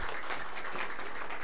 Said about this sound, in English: So let's give applause to Tim.